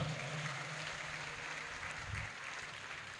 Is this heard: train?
no